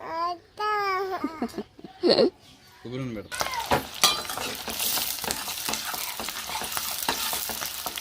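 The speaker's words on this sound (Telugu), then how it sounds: "ఉల్లిపాయ పచ్చిమిర్చి అయితే బాగా ఇంతవరకు చేసుకున్నాం" Onions and green chilies frying and being stirred for a village-style beef curry, a steady sizzle with scraping stir strokes that follows a few seconds of speech and babble.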